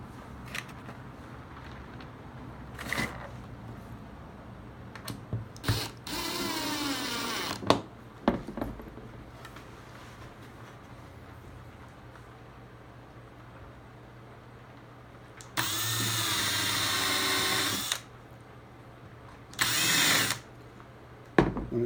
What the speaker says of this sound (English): Drill the pilot.